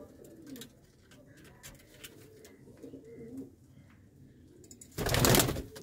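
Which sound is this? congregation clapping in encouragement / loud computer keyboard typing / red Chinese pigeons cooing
red Chinese pigeons cooing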